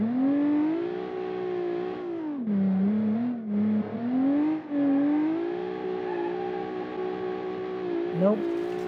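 V8 muscle car with rear-wheel drive and an open differential in a video game, its engine droning and wavering in pitch as revs rise and dip through a drift attempt, with short cuts in power, no talk.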